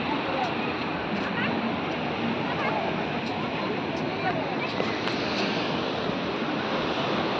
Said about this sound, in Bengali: আর দেখছো সমুদ্রের ঢেউ।